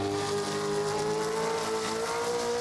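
A Gen3 Supercar engine in Assetto Corsa howls steadily at high revs around the Brno circuit, with pitch shifts as it drops down through the gears, loud and close with no talk.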